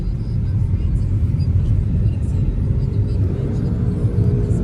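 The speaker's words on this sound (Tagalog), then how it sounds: "Moving traffic naman siya." Steady road traffic rumbles past in the morning, cars moving along at an easy pace with a continuous, close engine drone and tire noise and no voices.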